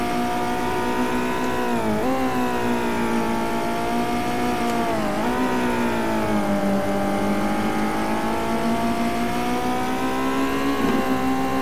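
A historic racing car of about 580 kg and 145 horsepower on a virtual circuit: a steady, close engine drone rising through gears with brief dips at each shift, loud and continuous.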